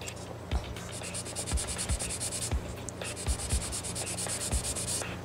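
A white plastic Aoshima Lamborghini Aventador model car body is rubbed with waterproof sandpaper during surface preparation, giving a steady run of close, rhythmic scratchy strokes, each about half a second to a second apart.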